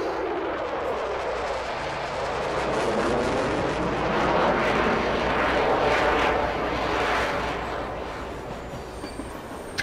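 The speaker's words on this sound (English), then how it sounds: "N14 engine, 800 horsepower with Z-Mod's custom N14 engine sound" Peterbilt 389 truck with an 800-horsepower Cummins N14 engine hauling dry bulk in American Truck Simulator, a steady loud droning engine roar rising and falling slightly throughout, alone without talk.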